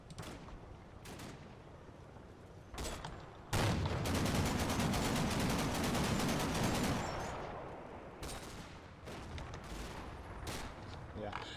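Gunfire from an M8 armored car in a war video game, bursts of rapid automatic fire and sharp shots, with a sustained loud barrage in the middle and scattered separate shots before and after.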